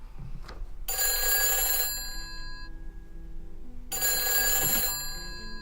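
An old-style telephone bell rings twice in long, rattling bursts separated by a pause of silence.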